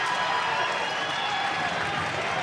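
A crowd at a high school basketball game cheers and applauds after a dunk by the Sailors, a dense, sustained roar with clapping that holds steady throughout.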